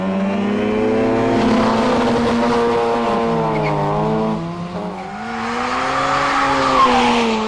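A rotary-engined Mazda RX5 races against a lighter Mazda R100, loud buzzing engine notes rising and falling through gear changes, a brief dip mid-run before revving hard again, with faint tire noise, no talk.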